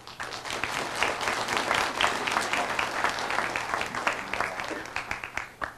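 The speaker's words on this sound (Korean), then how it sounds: "큰 박수로 맞이해 주시기 바랍니다." A ceremony audience at a university entrance ceremony claps in welcome for arriving guests, a dense, sustained patter of many hands throughout, tapering slightly at the end.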